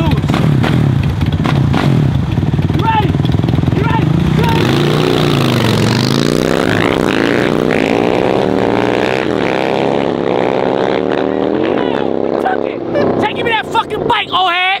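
A Harley and a dirt bike racing, loud revving engines rising and falling in pitch continuously up close, with shouting voices mixed in.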